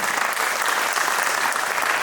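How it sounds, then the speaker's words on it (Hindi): An audience of guests at a national media conference cultural program claps loudly, a dense, even wash of many hands filling the space without pause. "आप सभी के सम्मान में एक जोरदार ताली बजाइए"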